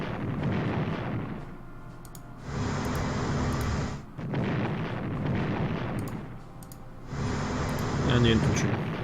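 Bombing explosions striking tanks in the Strategic Command strategy video game, several heavy rumbling blasts in separate bursts, each a few seconds long, loud and close.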